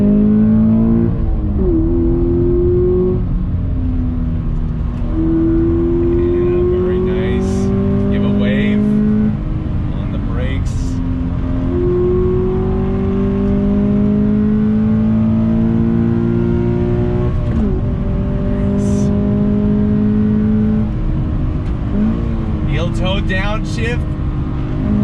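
A 2020 Toyota 86 Hakone Edition's engine climbs repeatedly through the revs under full throttle, each rising pull broken by a quick shift, loud and continuous from inside the car.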